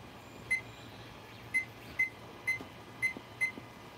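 A kitchen timer on the stove gives short electronic beeps as it is set, six or so spaced about half a second apart, thin and moderately loud over a quiet room hum.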